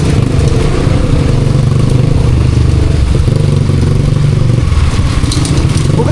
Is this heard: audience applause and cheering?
no